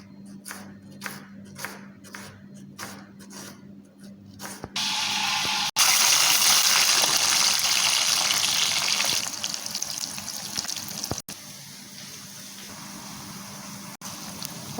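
Onions frying in a pan for Sri Lankan chicken chukka: a loud, steady sizzle erupts after a few seconds of quieter clicking and handling, then settles into a continuous crackling hiss with no talking.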